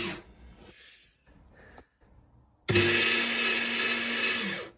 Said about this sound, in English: Oh, it was a welding torch.